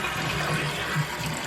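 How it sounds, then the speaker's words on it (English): A household toilet being flushed during a fill valve and flapper check, giving a steady rush of water swirling and refilling the tank, close and continuous with no talking. "let's give her a flush"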